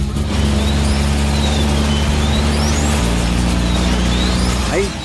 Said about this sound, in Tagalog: Parang may kakaibang tunog ang makina,